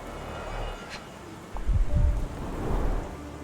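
Steady rain in the Sherlock Holmes The Awakened video game, a soft wash of falling water with low rumbles rising partway through, heard without any talk.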